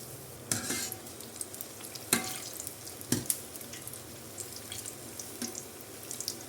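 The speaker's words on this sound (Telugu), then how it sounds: "ఇప్పుడు ఇలాగే అరటికాయ బజ్జీలు కూడా ఫ్రై చేసేసుకుందాం." Raw banana bajji fritters frying in hot oil, a continuous close sizzle broken by a few sharp bursts as pieces drop in or are turned, with no talking.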